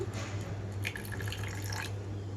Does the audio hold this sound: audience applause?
no